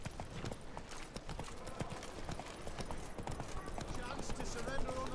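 Horse hooves clip-clop at a gallop in The Witcher 3, a quick, even beat of thuds under a steady voice that speaks across the clip.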